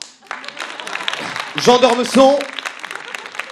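Audience applause at a university pleading competition semi-final swells briefly around a spoken announcement, a short burst of clapping that fades back under the voice.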